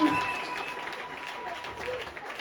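A church congregation applauds and cheers, clapping spread steadily across the room at moderate volume with scattered voices mixed in.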